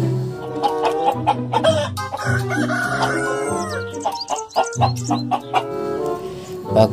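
Chickens cluck and chatter busily up close, with a rooster crowing partway through and steady overlapping calls throughout.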